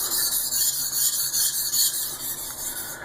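A knife sharpened on a sharpening stone, continuous gritty rasping strokes back and forth in a steady rhythm, close and loud without speech.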